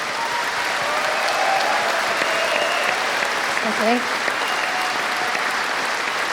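An audience in the De Montfort Hall in Leicester at a Marillion weekend applauds steadily, a dense sustained wash of clapping with a few faint voices and a brief word spoken over it.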